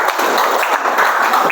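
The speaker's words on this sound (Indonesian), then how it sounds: "sekali lagi tepuk tangan bagi temannya ya" A classroom of students claps for their classmates after a group presentation, a short burst of dense, lively applause from many hands close by.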